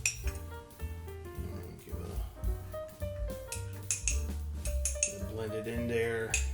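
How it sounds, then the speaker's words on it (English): A spoon clinks against a cup or glass while stirring ginger, lemon and mint tea, with light, irregular taps and rings close by. "Let's give it another little stir."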